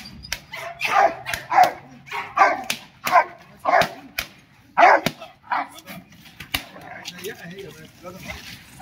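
A dog barks repeatedly in a quick, uneven series of sharp barks, fairly close, with a person talking in between.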